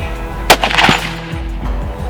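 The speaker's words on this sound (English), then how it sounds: "we're gonna go sight in rifles and make sure that everything's good to go before our morning hunt" A single loud rifle shot at an outdoor shooting range while rifles are sighted in before a morning deer hunt, a sharp crack followed by a brief rolling echo and rumble.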